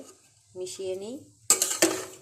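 Fried rice being mixed in a pan, with clanks and scrapes of a utensil against metal in two sharp bursts near the end; a voice talks briefly beforehand.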